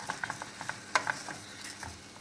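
Soft crackling sizzle from lentils frying in a small saucepan, with light stirring scrapes and pops, close by and fairly quiet.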